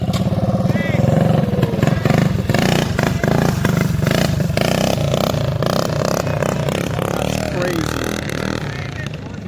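A mini bike running on E85 fuel revs loudly up close with a buzzing, rattling engine note that rises and falls, while voices talk over it.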